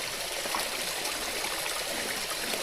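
Clean stream water flowing steadily beside a hillside temple, a continuous close rushing and trickling wash with no talk over it.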